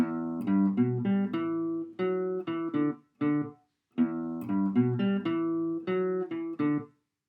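A clean-toned guitar playing the main riff of a song, short, punchy note clusters with brief gaps, played twice in a repeating phrase, close and solo.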